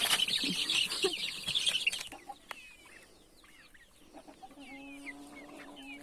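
Loud, busy chicken clucking and fowl calls fill the first couple of seconds, then scattered softer bird chirps and clucks continue more quietly.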